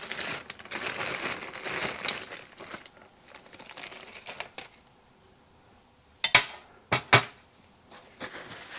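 A plastic bag crinkles and rustles near at hand while a Yamaha 100 Trailmaster oil pump is taken out, followed by a quiet pause and a few sharp clinks and crackles.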